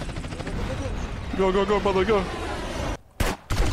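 Gunfire in a GTA San Andreas cops-and-robbers shootout crackles in rapid bursts under game effects and a short tonal chime, then a brief spoken line cuts in near the end.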